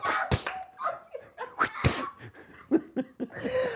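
Several sharp coughs and throaty bursts come close to the mic, spaced irregularly with breathy pauses between them.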